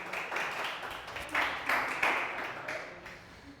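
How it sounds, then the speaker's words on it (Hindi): Students in a classroom clap for a classmate, a faint scattered round of applause rising and falling over a few seconds. "चलो ताली बजाओ उसके लिए सब लोग"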